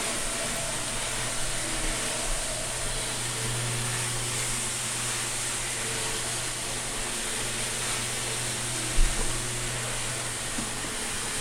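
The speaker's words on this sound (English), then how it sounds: "The little train that you're hearing is, of course, very miniature." A miniature model train, each car under an inch long, runs around a Christmas village display, making a faint, continuous whirring rumble with a brief bump near the end.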